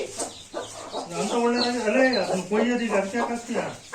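A chicken clucks and squawks repeatedly at close range in a quick, uneven series of calls.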